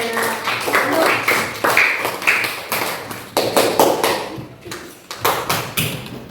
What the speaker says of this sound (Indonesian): Tepuk tangan untuk Pandu.